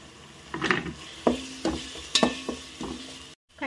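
Spoon stirring coriander and masala powder into chicken khichdi in a pot, a few scraping strokes with a light sizzle underneath, close and fairly quiet, with no talking.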